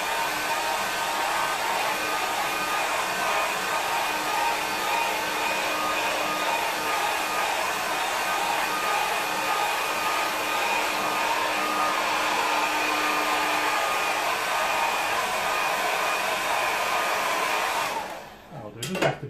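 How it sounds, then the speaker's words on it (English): A hair dryer drying a painting blows with a steady, loud whooshing hum for most of the clip, then cuts off near the end. "then I'll just dry it with the hairdryer"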